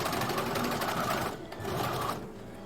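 A sewing machine stitches a blouse shoulder seam, a close, rapid steady rattling run that briefly eases off and then resumes, with no talking.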